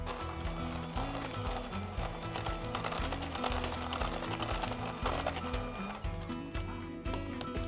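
An electric mixer beats mashed bananas into eggless vegan banana bread batter, giving a steady, close motor whir with a rhythmic pulsing hum that runs the whole time.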